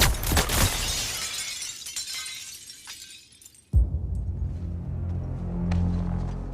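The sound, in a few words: glass shattering in Suicide Squad: Kill the Justice League video game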